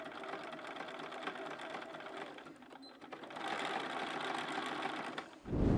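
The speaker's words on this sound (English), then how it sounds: "We've now done the zigzag stitch along the bottom of the cuff and the bottom of the hat" A sewing machine runs a zigzag stitch through layered fleece on a Santa hat seam, a steady close whirring hum with no talk, ending in a sudden heavy thump.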